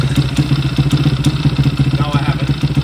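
A Zongshen Z190 motorcycle engine idling a bit high, a close, loud, steady thumping pulse with rhythmic mechanical clatter.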